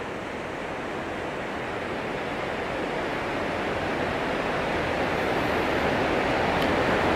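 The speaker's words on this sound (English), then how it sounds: "Look how fast that water is going." Fast-flowing Snake River water in a canyon, heard from a bridge near Hagerman and Buhl, Idaho, makes a steady, loud, broad rushing roar that swells slightly and never breaks.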